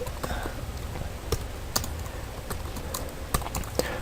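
Quiet keystrokes on a computer keyboard come in an irregular run of light clicks, with a few sharper taps standing out against faint background noise.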